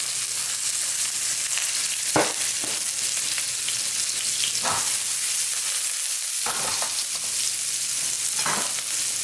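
Garlic and minced shallots saute in a couple teaspoons of vegetable oil over medium heat, a steady hiss broken by a few sharp crackling spurts while stirring, with no talk.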